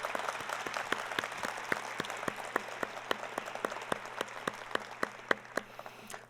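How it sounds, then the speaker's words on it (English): Applause from a modest audience at a fall faculty and staff assembly, with distinct individual claps standing out in an uneven rhythm over a thin wash of clapping, moderately faint and free of talk. "Hand of applause, please."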